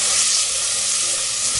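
Three medium cloves of chopped garlic browning in a pan, a dense, even, close sizzle with no breaks, lasting just over a second, no voices.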